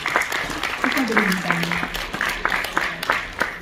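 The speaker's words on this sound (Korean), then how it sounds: "다시 한번 큰 박수로 축하드리겠습니다" Applause from an audience at a Korean private museum association general meeting, marking a new president's inauguration, with clapping running steadily under a voice speaking throughout.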